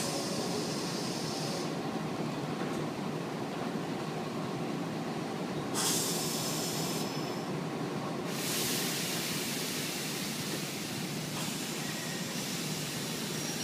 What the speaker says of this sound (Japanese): 3番線から電車が発車します。